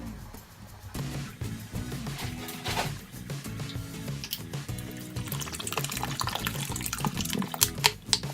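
Bottled water poured into a pot of spaghetti on the stove, a steady splashing, gurgling stream that runs close and fairly loud, with a few sharper splashes near the end.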